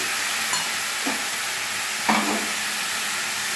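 Carrots, capsicum and peas fry together in a pan with a loud, steady sizzle, while a few spoon stirs scrape through it.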